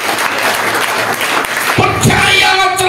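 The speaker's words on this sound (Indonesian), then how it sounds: "Tepuk tangan bagi Tuhan." A church congregation applauds during a service, loud clapping that fills the room and then gives way to music or voices toward the end.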